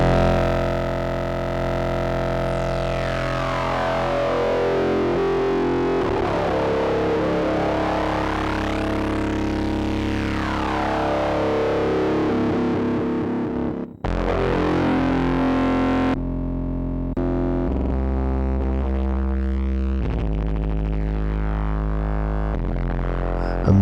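Fuzzbillion distortion pedal by Teaching Machines drives a heavily fuzzed, sweeping synth-like tone with cuts and abrupt texture changes, loud and continuous with no voices.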